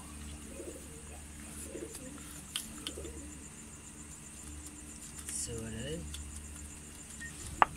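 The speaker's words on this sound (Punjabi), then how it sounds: "ਉਸ ਤੋਂ ਬਾਅਦ ਹੈ ਕਾਲੀ ਕਬੂਤਰੀ" A black female pigeon coos among other pigeons in a steady series of soft, throaty coos. It is close, with a faint hum and occasional light clinks in the background.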